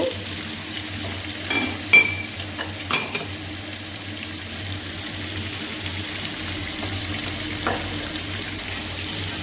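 Talakaya curry fries in a pan as turmeric and salt are stirred in, giving a soft continuous sizzle broken by a few light scrapes and clinks of the spoon, close and fairly quiet with no talking.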